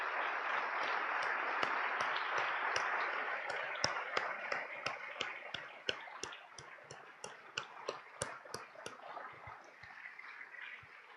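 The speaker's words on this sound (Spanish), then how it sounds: "¿Y qué les parece si nos adelantamos ahora y lo aplaudimos al Señor?" A Spanish-speaking church congregation applauds during a sermon: a steady wash of many hands clapping, with sharp individual claps popping out above the dense, sustained roar.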